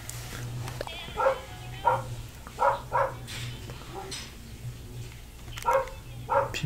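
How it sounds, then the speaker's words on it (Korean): A neighbouring dog barks in short repeated bursts at a moderate distance, alert barking set off by a cat, heard over a steady low hum with faint background sounds. "지금 옆집 강아지가 이렇게 짖는 거는 고양이가 나타났을 때 이렇게 짖고."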